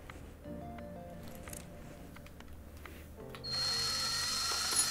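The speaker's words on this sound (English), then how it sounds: "Did the other drill sound as horrible, or did we just have a better drill in the tutorial?" A power drill in the Car Mechanic Simulator VR game whirs in a thin, harsh tone, starting faintly and then jumping to a louder, steady high whine for the last second and a half.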